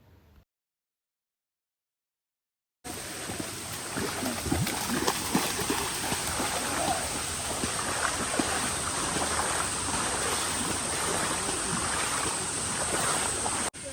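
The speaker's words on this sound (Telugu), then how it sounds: "ఇక్కడైతే వాటర్ ఫాల్ సౌండ్ అయితే గట్టి కొట్టేస్తుంది" A steady, dense rush of a waterfall at Maredumilli roars continuously after a brief silence at the start, loud and unbroken.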